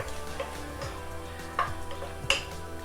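Chicken with pepper powder being stirred in a pan, with a soft sizzle underneath and a few sharp scraping and tapping hits of the utensil against the pan, close and fairly quiet.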